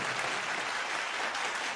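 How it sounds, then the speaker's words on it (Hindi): Audience applause at a comedy show, a steady wash of many hands clapping at once, moderately loud and sustained throughout with no break or speech. "एसपी साहब के लिए जोरदार तालियां"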